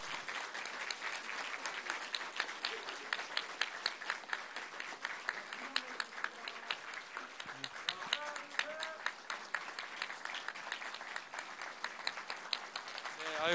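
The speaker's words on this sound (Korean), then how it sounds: "박수 한번 부탁합니다" Sustained applause from an audience at a monthly office assembly after a samulnori traditional percussion troupe performance, dense steady clapping with occasional speech and murmurs underneath.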